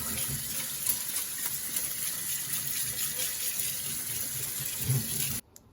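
Thai long-grain rice is rinsed under a running kitchen tap, a close steady gush of water that cuts off abruptly near the end.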